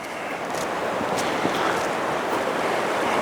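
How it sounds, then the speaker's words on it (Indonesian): A small stream flows over rocks in an American forest campsite, making a steady, broadband rushing wash of water that stays constant and fairly loud, with no voices. "Sungai kecil"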